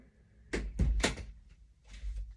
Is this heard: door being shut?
yes